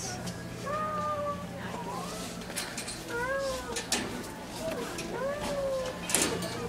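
A cat meows three times at steady intervals, drawn-out and fairly close, over low background noise and a few faint knocks.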